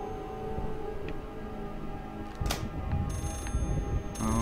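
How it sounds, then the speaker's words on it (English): Telephone ringing inside the horror video game Layers of Fear; a bright electronic bell ring bursts out sharply amid a dark, low ambient drone and faint clicks, repeating moderately loud near the end. "Don't you hear the other phone?"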